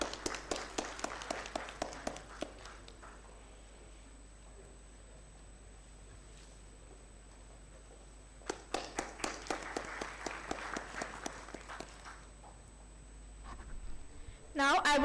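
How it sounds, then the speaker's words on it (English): Audience applause at a medical imaging symposium, with two bursts of clapping: one from the start to about 3 seconds and another from about 8.5 to 12 seconds, with quieter room noise between. "Please give a huge round of applause."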